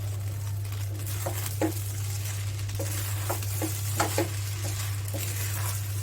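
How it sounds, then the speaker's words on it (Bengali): Broken rice cooking with a spoonful of ghee being stirred in a pot, soft scraping and stirring strokes at an irregular rhythm over a faint steady sizzle and a low constant hum, close and moderately quiet. "এখন নামানোর আগে 1 চামচ ঘি দিয়ে দিলাম, একটু ভালো করে মিক্স করব।"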